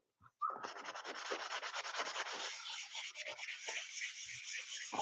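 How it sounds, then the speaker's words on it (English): Sandpaper scuffing a surface by hand to help a coating adhere, a steady close run of rapid back-and-forth rasping strokes that starts after a brief tap and continues alone without pause. "See if I have any sandpaper here. Scuff it up just so that it adheres better."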